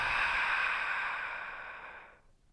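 A long, deep breath let out slowly during a yoga session, a soft airy rush that holds steady and then fades away over about two seconds.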